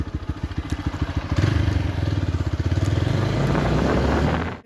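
A motorcycle engine starts with a fast, pulsing idle chug, then revs up into a loud, steady roar close by, with a brief clatter near the start.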